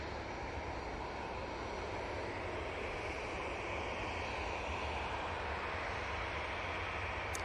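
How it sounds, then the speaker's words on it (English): A TUI Boeing 737-800 departing Manchester Airport for Corfu gives a steady, dense jet roar that holds without a break and sounds fairly distant, with no voices. "Going off to Corfu now, we've got this TUI 737-800"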